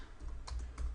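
Quiet keystrokes on a computer keyboard tap in a quick, irregular cluster of a few soft clicks over a low background hum.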